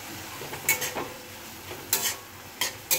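Coriander leaves stirred into radish chechki with mustard paste in a pan, a soft low sizzle broken by several sharp spoon scrapes and clinks against the pan at irregular intervals.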